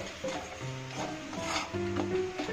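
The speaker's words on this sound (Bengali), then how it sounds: "সমস্ত মশলাগুলোকে একটু ভালো করে ভেজে নিতে হবে" Spices for fish curry being stirred and fried in a pan, a continuous soft sizzle with scraping spatula strokes and faint metallic squeaks, close up.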